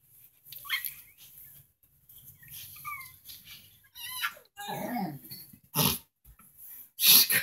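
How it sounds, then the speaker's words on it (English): An infant in a crib lets out a series of short, breathy growls and grunts, close and intermittent with pauses between bursts, rising to louder, rougher sounds near the end. "She's got those growls, man."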